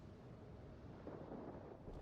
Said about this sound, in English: It's a beautiful rain going on here.